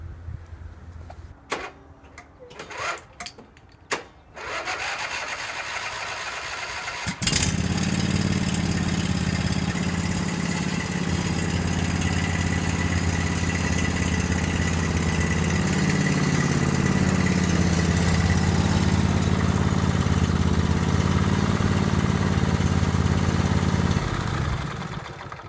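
A Cub Cadet 1190 garden-find lawn tractor engine cranks with a few short bursts, catches, and then idles steadily and loudly up close for about eighteen seconds before cutting off.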